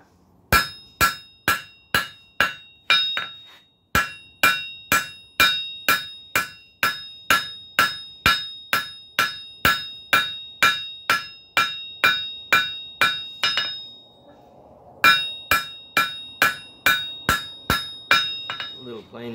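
Steady, ringing hammer blows on 5/8-inch round steel bar, struck with the flat face of the hammer to knock down lumps while making a pan rack, about two strikes per second with brief pauses, close and loud.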